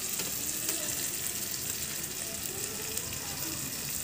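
Spices and ginger-garlic paste sautéing in oil for a bhetki fish curry, a close, steady sizzle with faint stirring scrapes and no talking.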